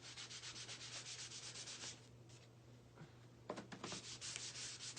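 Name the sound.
buffing wax onto a painted surface by hand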